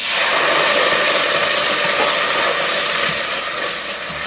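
Tomato sizzles loudly in a hot pan along with shredded coconut for a south Indian eggplant curry, a steady dense frying hiss holding throughout with no talking.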